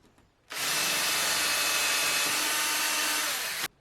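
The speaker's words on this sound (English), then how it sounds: "Using a metal drill bit, it's easy to drill the mounting holes in the rails." A power drill with a metal bit whines steadily for about three seconds, close and loud, starting and stopping abruptly as it bores mounting holes through metal rails.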